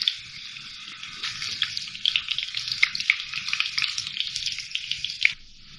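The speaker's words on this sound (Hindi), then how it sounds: "प्याज गोल्डन होना शुरू हो गई है" Onions and whole chillies frying in hot oil for a dal tempering give a steady, close sizzle with crackling pops throughout, and no one speaks.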